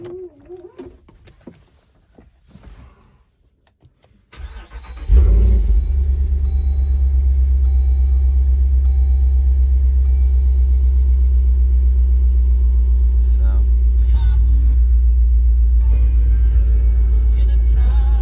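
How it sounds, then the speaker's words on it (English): Quiet shuffling and faint sounds, then a Jeep Rubicon 392 engine cranks and catches, settling into a loud, deep, rumbling idle that continues steadily, with a brief rev near the end. "you gotta hear it run too, you know, that's kind of half the fun of the Jeep"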